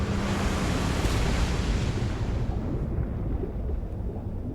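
Ocean surf and deep rumble in the VR game We Are Stars, a loud, continuous roar of broadband noise that slowly thins toward the end, with no talk.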